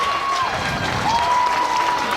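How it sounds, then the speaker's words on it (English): Football crowd at a Delsea vs Ocean City high school game breaks into steady applause and cheering after a leaping catch near the 10-yard line, a broad sustained roar with a whistle-like tone cutting through. "That brings the crowd to life."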